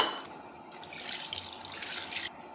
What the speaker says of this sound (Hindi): 1 कप मज़ीद ऐड करेंगे पानी इसमें